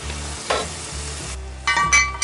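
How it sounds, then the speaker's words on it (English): Pork steaks sear in a Dutch oven, giving a steady close sizzle with a clatter of metal partway through and a louder crackling surge near the end. "In first side, just sizzling along really nice."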